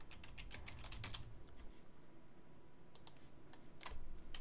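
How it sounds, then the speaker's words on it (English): Typing on a computer keyboard, with quick clusters of light key clicks and brief pauses between them, close and fairly soft, with no talk over it. "So you just go through and type in, you know, Game Boy or whatever."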